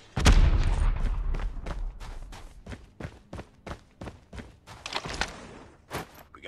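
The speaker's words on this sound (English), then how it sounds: "Bomb drop." Bomb-drop explosions in a video game: one heavy boom opens, then a series of sharp blasts and impacts follows at irregular intervals, moderately loud, with no talking.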